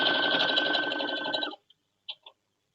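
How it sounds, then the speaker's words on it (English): A sewing machine stitching quilt pieces along a quarter-inch seam, running steadily with a close whirring hum for about a second and a half, then stopping, followed by a couple of brief soft clicks. "we're just going to start sewing, and we're just going to go right down the line with our 1/4 inch seam allowance"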